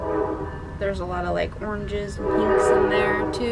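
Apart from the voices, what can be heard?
passing train honking its horn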